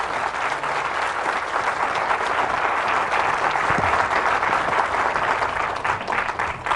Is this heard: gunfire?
no